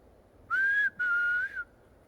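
A person whistles outdoors at night in Cannock Chase woodland: two clear, sustained notes with a short break between them, steady in pitch and fairly close, over a quiet background.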